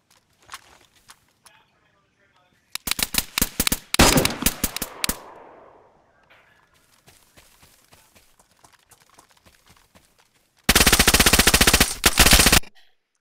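Bursts of automatic gunfire in the video game DayZ crackle around the player, with a loud rapid volley early on, scattered single shots in between and another long, dense burst near the end.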